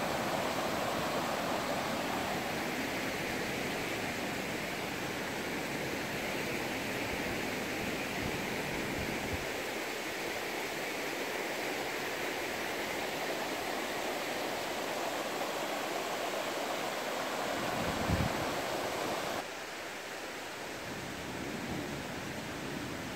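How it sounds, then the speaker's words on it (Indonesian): A natural river rushes over large rocks at Grape Dungus in Madiun, making a constant, broad hiss of flowing water that stays close and steady throughout. "Ini sungainya masih alami sekali,"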